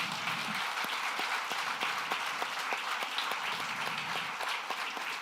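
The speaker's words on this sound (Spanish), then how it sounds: "Dele un aplauso a Jesús." A church congregation applauds with dense, steady clapping that fills the room, lasting throughout at an even, fairly strong level with no pause and no voices on top.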